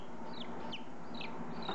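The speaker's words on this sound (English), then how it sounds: "So they are bantams, which are basically mini chickens" Bantam hens cluck softly and repeatedly at close range in a farm nursery, short chirping notes over a low, steady background hum.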